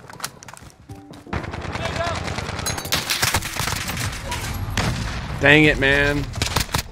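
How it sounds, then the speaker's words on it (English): Rapid AK-47 gunfire bursts in a Modern Warfare multiplayer match, loud cracking automatic fire with game effects, while a player's voice talks over the action. "This AK just shreds."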